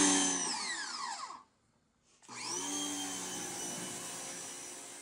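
A low-flow pressure washer running at 1.2 GPM and 1500 PSI sprays steadily and loudly at close range, with a hissing whine that cuts out briefly for about a second before resuming.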